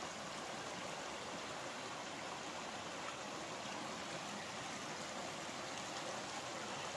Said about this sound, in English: There's the river down there.